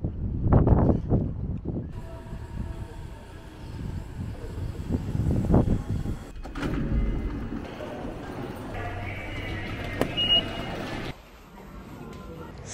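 A train pulls into a station, its low rumble and rolling wagon noise building over about thirteen seconds, with some background voices and a quieter stretch near the end.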